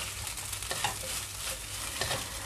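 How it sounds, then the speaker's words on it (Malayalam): Okra and egg thoran stirred in a frying pan, a faint steady sizzle with soft scraping of the spoon and light clicks, no talk. "അപ്പോൾ നമുക്കൊന്ന് ഇളക്കി കൊടുക്കാം."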